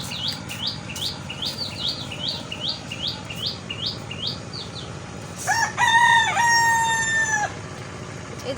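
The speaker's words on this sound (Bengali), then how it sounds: "আসলে মোরগ ডাকতেছে" A rooster crows in a village setting, a clear drawn-out call rising and holding before cutting off, preceded by a steady series of repeated chirping bird calls against faint outdoor background noise.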